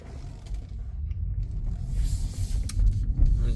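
Low rumbling road and motor noise inside a 2019 Tesla Model 3 during a test drive, steady and fairly quiet, swelling slightly toward the end with faint mechanical clicks.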